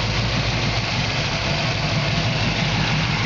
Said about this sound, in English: You can just hear the engine run perfect.